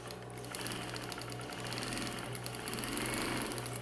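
A sewing machine runs steadily down a seam on a bathroom set, its fast, even whirring rattle loud and close throughout with no talk.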